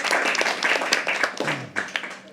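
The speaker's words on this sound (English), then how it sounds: "I don't know why every time I say this line, people start clapping." Poetry open mic audience clapping: a burst of scattered hand claps that thins out, with some cheering or voices mixed in, fairly close and lively before trailing into a few isolated claps.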